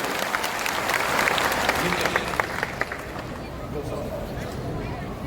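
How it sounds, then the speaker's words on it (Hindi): An audience in a large hall applauds, a dense, steady wash of clapping at moderate distance that carries on for several seconds and tapers slightly toward the end. "एक बार जोरदार ताली सबके लिए होना चाहिए।"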